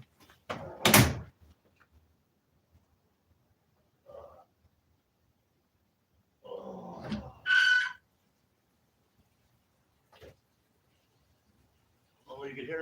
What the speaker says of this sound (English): I'm just gonna open the door right here.